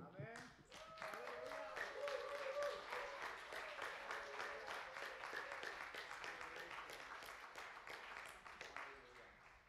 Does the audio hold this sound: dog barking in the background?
no